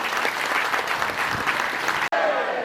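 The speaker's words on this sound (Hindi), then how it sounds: "इन सारे बच्चों के लिए एक बार ताली बजाइए आप लोग" An audience at a Vishwakarma Dham anniversary festival in Kalina claps for a group of children, dense steady applause that fills the room, then cuts off abruptly near the end.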